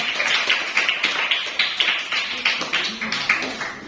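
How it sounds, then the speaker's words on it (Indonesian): A classroom group gives applause for presenting classmates: steady, dense rapid clapping from many hands, fairly close and continuous for several seconds. "Berikan aplaus untuk kelompok"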